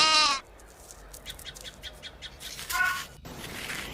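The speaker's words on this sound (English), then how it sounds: "A sheep eats grass." A sheep gives a loud bleat, followed by fainter bleats and calls in the background.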